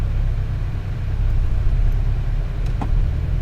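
A Porsche Cayman GTS drives off, giving a low, steady engine rumble with road noise that stays close and even throughout, with no talking.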